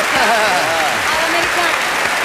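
Audience applause at an Italian television award ceremony, a Telegatto presentation to Bud Spencer, steady and sustained throughout, with a voice speaking over the clapping.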